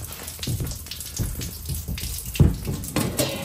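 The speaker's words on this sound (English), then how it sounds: "You can hear that it's leaking from the back here." Water splashes and trickles steadily nearby with irregular spattering bursts, a wet hissing flow as it leaks from the back of old 2003 car wash equipment onto a hard surface.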